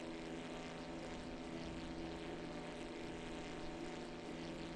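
Propeller airplane droning steadily in a flight video game, a constant engine hum with a buzzy harmonic tone holding at even loudness throughout, no voices.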